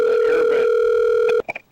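A telephone tone plays steadily while a call to Grandma goes through, a loud continuous two-pitch sound that cuts off abruptly, followed by a few short faint electronic blips.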